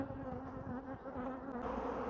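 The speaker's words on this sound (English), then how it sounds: "Sun's out and the bees are getting busier." Honey bees buzz around a hive on a sunny day, the colony close to swarming; a steady, soft, continuous drone with no voices.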